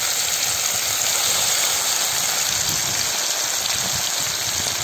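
Masala-coated fish frying in hot oil, giving a dense, steady sizzle and crackle that runs loud and unbroken throughout.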